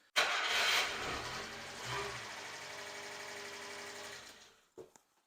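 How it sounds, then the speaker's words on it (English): The small engine of a Subaru Sambar cranks and catches at once, then runs at a steady, slightly ticking idle close by for several seconds before shutting off with a brief clunk. "I'm just going to just go see if this thing starts up real quick here"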